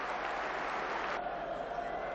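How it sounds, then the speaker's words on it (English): Boxing crowd in Sheffield roars and applauds after a title fight, a dense wall of clapping and crowd noise heard steadily throughout, thinning slightly partway. "The crowd are on their feet"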